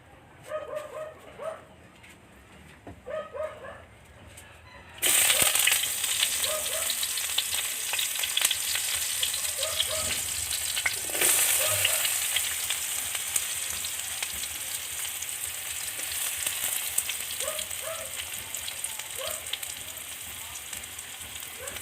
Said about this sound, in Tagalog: So magigisa muna tayo.